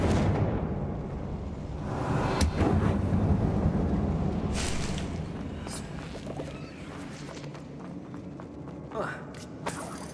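Confringo fire spell blasts in the Hogwarts Legacy video game, a dense rumbling barrage of booming impacts and crackling bursts with several sharp hits, loud and continuous with a spoken voice over the din.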